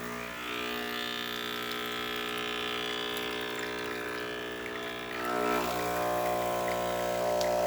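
A Breville espresso machine pulls a shot after a solenoid valve repair, its pump humming steadily with layered tones while liquid streams and gurgles, the sound swelling a little louder near the end.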